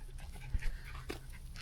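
A small dog pants after a hike to a hilltop viewpoint, making quick, soft, breathy puffs close to the microphone over faint outdoor background noise.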